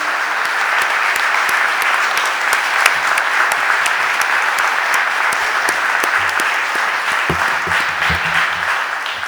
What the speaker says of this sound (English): So can we give Imani a round of applause?